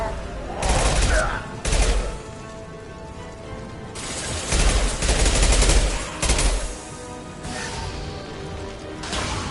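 Bursts of impact shot gunfire from the Mass Effect video game, loud dense volleys coming in several waves with brief lulls between them.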